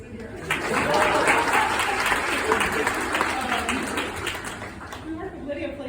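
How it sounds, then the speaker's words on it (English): Applause from an audience at a community anti-violence event, a broad steady wash of clapping that swells early and holds for several seconds with crowd murmur and voices mixed in. "And let's clap for the county."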